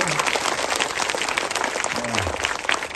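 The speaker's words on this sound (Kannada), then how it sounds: "ಒಂದು ದೊಡ್ಡ ಎಲ್ಲ ಚಪ್ಪಾಳೆ ಹೊಡಿಲ್ಲ" An audience claps in sustained applause during a speech, a dense crackling patter at moderate volume with faint voices and murmurs mixed underneath.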